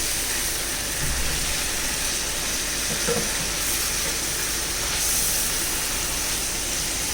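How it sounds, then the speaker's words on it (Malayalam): Prawns frying in a pan with curry leaves, a steady loud hissing sizzle throughout, with faint scraping and bumps as they are turned over. "ഒരു വശം മൂത്തിട്ടുണ്ട് ചെമ്മീൻ. നമുക്കത് മറിച്ചിട്ട് കൊടുക്കാം."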